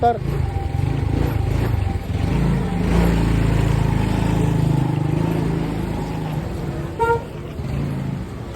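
A motor vehicle runs on a city street with a low, sustained engine drone that swells and fades as it passes, amid traffic noise and a brief horn-like tone near the end.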